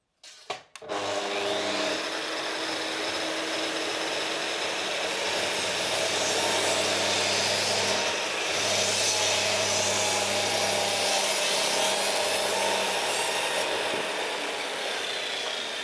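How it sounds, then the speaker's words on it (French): A Festool HK132 circular saw powered by a SYS-PowerStation starts with a click and spins up to a loud, steady whine, holding a sustained hum with slight shifts as it runs for over a dozen seconds. "nous allons aussi mettre en marche la HK132 dans quelques instants"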